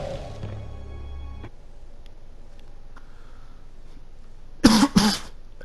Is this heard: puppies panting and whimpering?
no